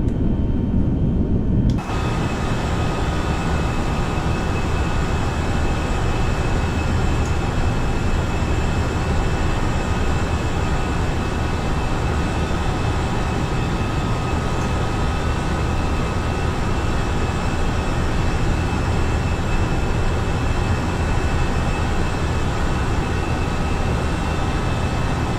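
Airbus A319 airliner climbing after takeoff in the FSLabs flight simulator, a loud, steady broadband engine roar with a constant hum that starts abruptly after a brief quieter moment and holds unchanged throughout.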